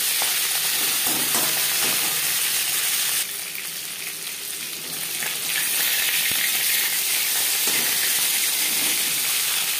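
Loud, continuous sizzling and hissing of rohu fish frying in hot oil in a kadai, dipping briefly before surging back up.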